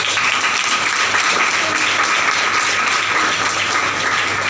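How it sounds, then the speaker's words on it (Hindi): A hall audience at a training seminar breaks into loud, steady applause, many hands clapping together evenly from start to finish with no let-up. "अरे एक बार जोरदार तालियां।"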